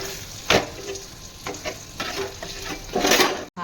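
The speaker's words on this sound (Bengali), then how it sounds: "জলখাবারে তোমার পরোটা আর বেগুন ভাজা হচ্ছে, পরোটা করছি।" Parathas and fried aubergine sizzle in a pan, with a steady crackle of hot oil broken by a few louder stirring scrapes and a brief drop near the end.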